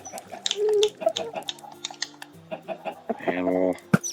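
Chickens clucking in the Minecraft video game, several short clucks and squawks popping up over clicking game sounds, moderately close, with no talking.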